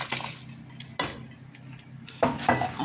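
A spoon stirs chicken stew in a metal pot, making loud clanks and scrapes against the sides in three or four separate bursts, with quieter pauses between them and no talking.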